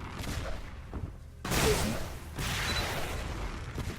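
Weapon fire in a Xonotic duel on the Aerowalk map comes in dense, sustained volleys after a quieter opening, loud and continuous to the end.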